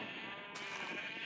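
Sheep in the video game Minecraft give a steady, synthetic bleat that carries on throughout, fairly loud and close with no one talking over it.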